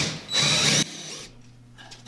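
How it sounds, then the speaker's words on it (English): A loud burst of a power drill boring a dowel hole into wood, then the motor winds down and stops, leaving a faint hum and light handling noises. "If I can drill halfway straight,"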